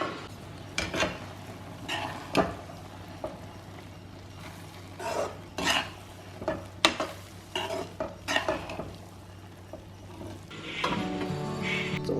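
Food simmers in a pan while a utensil stirs and scrapes it in a series of short, distinct strokes over a low background hiss, with a faint clatter near the end.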